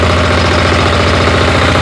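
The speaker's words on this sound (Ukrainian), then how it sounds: "Дизельна техніка Вейма." Weima MB-12DE diesel walk-behind tractor with a 12 hp engine, idling steadily and loudly up close with a rhythmic knocking diesel chug and no talk over it.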